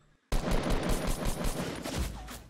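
Gunfire in Fortnite, at Tilted Towers, comes in as a sudden dense burst of rapid shots after a brief near-silence and holds steady and loud to the end.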